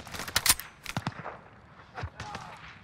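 M4A1 rifle set up as a submachine gun in Call of Duty: Modern Warfare, firing in short rapid bursts of sharp, close shots with gaps between them.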